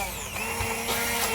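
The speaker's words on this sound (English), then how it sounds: "we're just going to use the food blender and pulp it up a bit" Handheld food blender whirring steadily as it pulps cooked food in a pot for a healthy home-cooked dish, a continuous motor drone with a bright high whine, heard close and alone.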